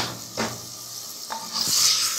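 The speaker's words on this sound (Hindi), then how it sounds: "और इसको भी बहुत अच्छा सा हमने भूनना है चिकन और मसाले के साथ दाल को।" Boiled dal fries with chicken and masala in a handi, quiet sizzling with a few spoon scrapes against the pot, rising to a brighter hiss toward the end, no voices.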